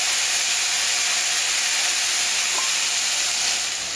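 Alcohol splashed into a hot non-stick pan on medium heat while deglazing pork chop drippings, giving a loud, steady hiss and sizzle that holds level throughout and only eases slightly at the end.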